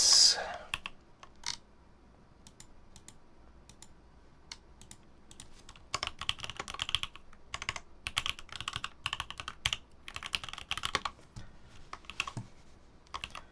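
Typing on a mechanical computer keyboard for a typing test, with bursts of quick, fairly close key clicks and clacks that come and go in uneven flurries, some pauses between.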